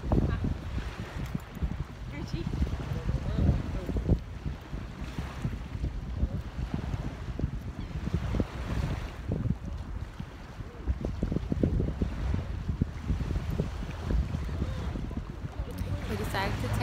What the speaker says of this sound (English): The waves were so relaxing. I love the sound of the waves.